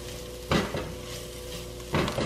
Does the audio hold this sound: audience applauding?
no